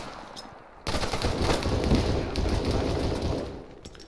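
Gunfire in the military shooter game Arma 3 erupts after a quiet start into dense, sustained rapid shots, loud and continuous with no talking.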